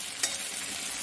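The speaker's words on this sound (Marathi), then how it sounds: "किती छान फोडणी दिसते बघा." Green chili tempering sizzling in hot oil in a pan for a ridge gourd dish, a steady hiss close by with one brief sharp crackle.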